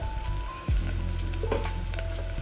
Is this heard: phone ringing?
no